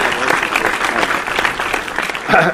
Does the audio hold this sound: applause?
yes